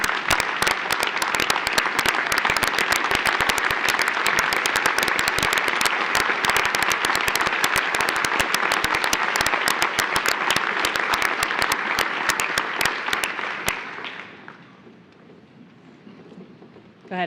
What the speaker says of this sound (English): So I think we need to send him off with one more round of applause.